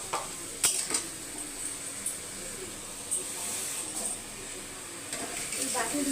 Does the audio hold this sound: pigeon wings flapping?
no